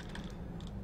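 A computer mouse gives a few faint, quick right-clicks in a quiet room, a short cluster of soft ticks followed by a pair more after a brief pause.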